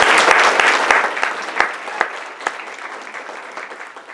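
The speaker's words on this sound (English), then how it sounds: "Let's give them a huge round of applause." Audience applause at a business expo, a loud burst of many hands clapping that thins into a few scattered, distinct claps as it dies away.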